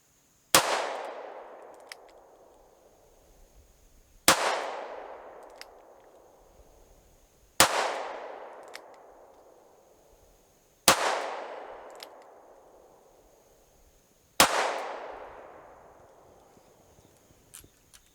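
Five single-action shots from a short-barrelled Ruger LCR revolver, each a sharp loud crack with a decaying ring, spaced about three seconds apart in an otherwise quiet setting.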